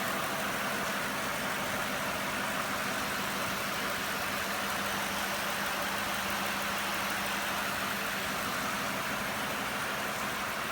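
A 2002 Cadillac DeVille Northstar V8 runs at idle with its belt cut, giving a steady, dense mechanical hum and whir that holds unchanged throughout, with no talking.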